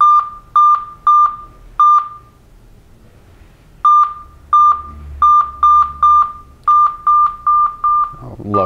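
Loud, sharp electronic beeps in quick bursts from a Midland MXT100 micro mobile GMRS two-way radio, with a brief pause in the middle and an irregular rhythm, close to the listener.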